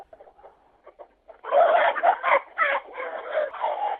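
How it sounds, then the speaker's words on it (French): Hens cluck and chatter inside a hen house, with soft scattered calls at first that turn into a dense, louder burst of overlapping clucking. "je suis dans mon poulailler au milieu des poules"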